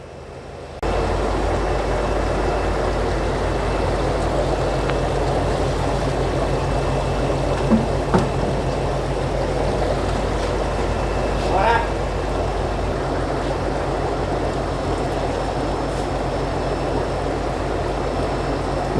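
Steady, dense bubbling and rushing of water from strong aeration in a marine shrimp post-larvae tank, continuous and fairly loud, with faint brief clinks and a voice over it.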